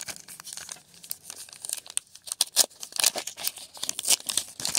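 A 1981 Donruss baseball card wax pack with bubble gum inside is torn open, giving sharp crinkling and tearing bursts of wrapper noise, close and irregular, with no talk over it.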